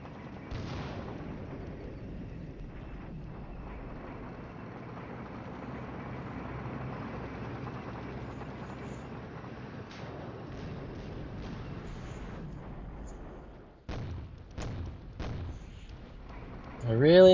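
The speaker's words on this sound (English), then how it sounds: "Enemy artillery blind firing as well." Enemy artillery fires blind in a World War II campaign strategy game, distant rumbling booms over a steady low battle din. A gap of near silence follows, then several sharp separate impacts, with someone talking briefly near the end.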